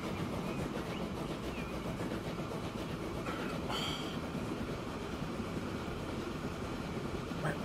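Train rolling along in the railway simulation game Transport Fever 2, a steady continuous rumble of wheels on track with a brief brighter metallic squeal partway through, no voices.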